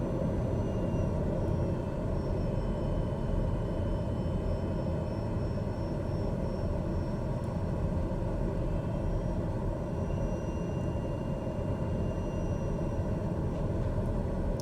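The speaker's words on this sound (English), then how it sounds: "the throttle is not very responsive, because the turboprop takes a lot longer to spool up" Turboprop airplane engine while taxiing, a loud, steady droning roar with a constant low rumble and a faint whine above it, continuous and unchanging throughout.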